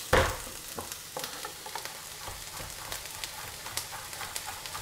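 Onions and garlic frying in a pan, making a soft, steady sizzle with scattered crackles and light stirring taps after a sharp clatter at the start.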